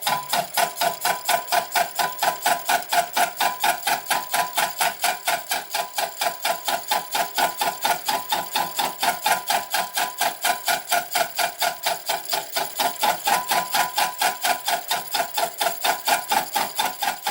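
A metal lathe turns slowly at 250 RPM while knurling a part for a Hemingway Kits knurling tool, producing a loud, continuous rapid rhythmic clatter of evenly spaced pulses throughout.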